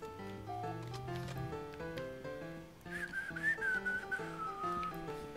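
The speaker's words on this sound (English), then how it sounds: "Probably shouldn't whistle into the mic." A person whistles a melody straight into a microphone during a Halo 3 gaming session. The tune runs steadily for several seconds over background game music, with a sustained, wavering high note near the end.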